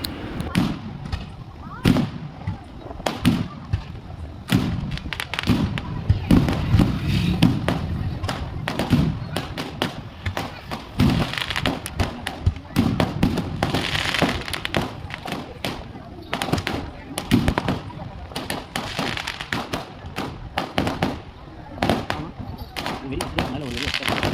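Firecrackers burst on a main road during a village temple festival, a long run of sharp cracks and thuds, some close and loud, with voices talking underneath.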